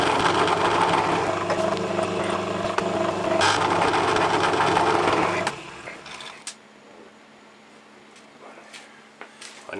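A lathe drills a hole into 3mm steel bar stock with a loud, steady mechanical whir for about five seconds, then spins down to a much quieter background with a few faint clicks and taps.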